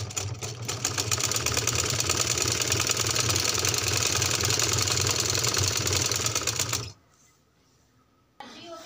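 A sewing machine stitches baby frock fabric, giving a close, fast, steady rhythmic clatter for about seven seconds before stopping abruptly, followed by near silence and a faint later sound.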